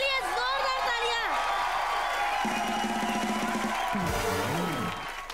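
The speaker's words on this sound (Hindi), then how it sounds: "एक बार सुल्तान के लिए जोरदार तालियां।" A studio audience at a live Hindi comedy show claps and cheers, a lively swell of applause and whoops, with music and a voice carrying over it.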